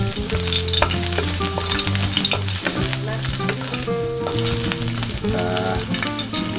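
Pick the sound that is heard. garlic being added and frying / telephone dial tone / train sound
garlic being added and frying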